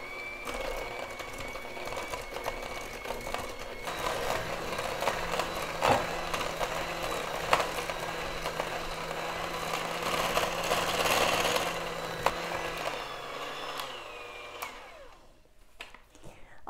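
An electric mixer whirs steadily through chocolate chip cookie dough, its motor hum rising and shifting in tone as it churns, then winding down near the end; a voice talks briefly underneath.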